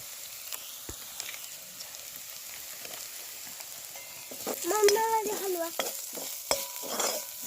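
Mutton masala stirred and fried in a pan: soft scraping of a spoon with a quiet sizzle underneath, building to louder frying and stirring strokes midway, no talk.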